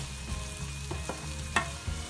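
Chopped onions sauté in a pan with a soft, steady sizzle and a few light spoon taps and scrapes, close up and fairly quiet, with no one talking.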